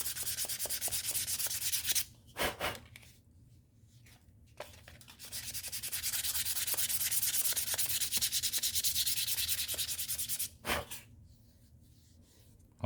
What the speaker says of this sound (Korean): 사포에 힘을 너무 주면 안 돼요